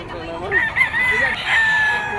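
A sweater gold yellow-legged Picom gamefowl rooster crows once in a long, strained call at a gamefowl market, close and clear over some crowd murmur.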